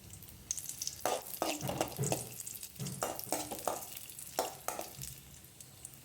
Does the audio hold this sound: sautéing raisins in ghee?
yes